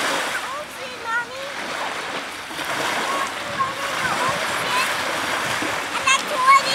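Ocean waves splash and wash at Seahurst Beach, an irregular surging of water with a voice talking nearby.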